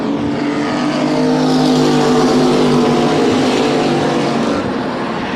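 Race cars at speed on an oval track pass side by side into turn one, a loud sustained engine roar with layered droning tones rising and falling as the cars sweep by.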